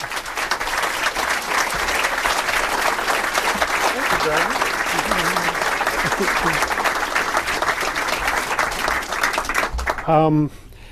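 Sustained, dense applause from a large audience welcoming cartoonist Garry Trudeau, steady and loud for about ten seconds before tapering, with a brief voice starting at the very end.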